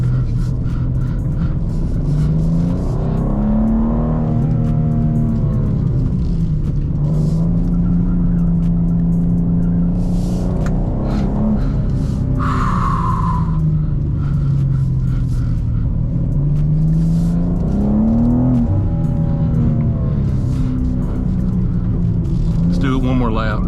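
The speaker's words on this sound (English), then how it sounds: "Whoa, we're drifting." A BMW M2 engine drones loudly through a drift, its pitch swelling and falling as the revs change, with a voice talking over it.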